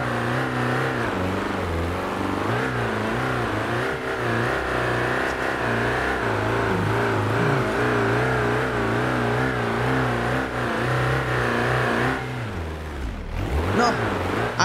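A Toyota FJ40 in BeamNG.drive strains up a steep off-road climb, its engine revving loudly and wavering in pitch, then dropping off sharply before surging again near the end.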